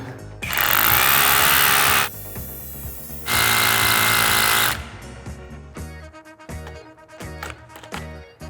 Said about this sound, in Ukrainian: на останньому отворі він вже так трошки приспустив обороти